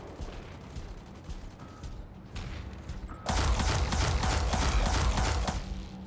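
Incoming weapon fire in the mech combat game Mech Arena: a dense, steady barrage of rapid shots and impacts that grows suddenly louder and fuller partway through and holds there under the background game noise.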